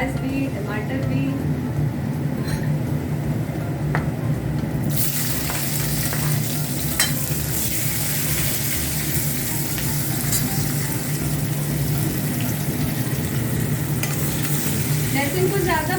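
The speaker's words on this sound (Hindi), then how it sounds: "अच्छे से बस थोड़ा सा फ्राई हो जाए लहसुन" Garlic sizzles steadily in a hot pan with scraping stirs throughout, a continuous close frying hiss while someone speaks over it.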